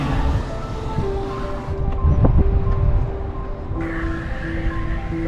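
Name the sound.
wind and waves in a bay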